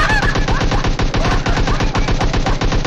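A SCAR rifle fires in sustained rapid automatic bursts during a PUBG Mobile match, loud and dense, with overlapping game effects and no voices.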